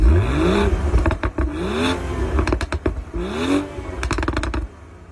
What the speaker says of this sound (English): one of my favorite things about this car, and it is just how this thing sounds